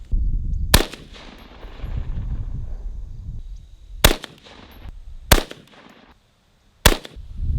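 A CMMG MK IV AR-15 rifle chambered in .22 Nosler fires four sharp, loud shots spaced irregularly, each a hard crack with a short echoing tail over a low rumbling outdoor background.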